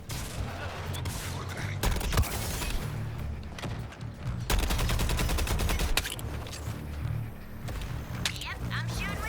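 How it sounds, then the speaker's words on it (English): Deadshot's gun fires in Suicide Squad: Kill the Justice League, with rapid bursts of close, crackling automatic shots and single reports over steady game noise. "Yep, I'm shooting with Deadshot."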